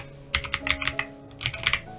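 Quick bursts of keystrokes on a computer keyboard, two short runs of typing close up with a pause between, alone without talk.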